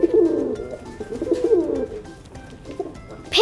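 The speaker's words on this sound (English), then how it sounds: "Pigeon." A pigeon coos close by, soft throaty rolling calls repeated over a low background hiss.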